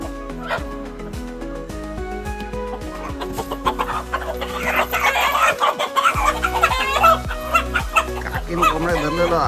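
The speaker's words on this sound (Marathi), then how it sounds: "काकीने कोंबड्या धरलेलो." Chickens that were just caught by hand cluck and squawk close by, mixed with a dense, busy background and voices talking.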